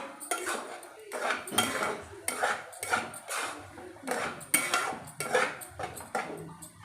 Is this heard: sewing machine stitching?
no